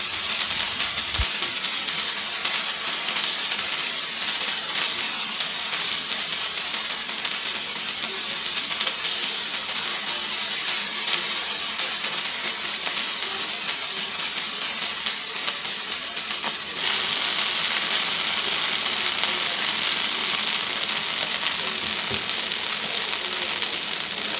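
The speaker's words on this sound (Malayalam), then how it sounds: "കൂന്തൽ മറിച്ചിട്ടതിന് ശേഷം നമുക്ക് വീണ്ടും ഒരു ഒരു മിനിറ്റും കൂടി ഹൈ ഫ്ലെയിമിൽ ഫ്രൈ ചെയ്യാം" Squid frying in a pan on high flame gives off a dense, continuous sizzle and hiss that is loud and steady, growing slightly brighter and stronger toward the end, with no voices.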